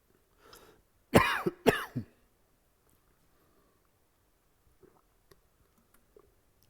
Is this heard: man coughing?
yes